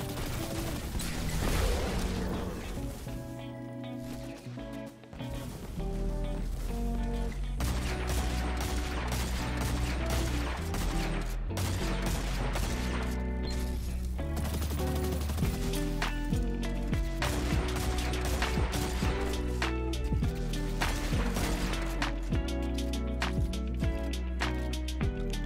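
Rapid gunfire in the video game Perdition, dense repeated shots and mechanical clatter layered under loud game music throughout, played solo against enemies and a boss.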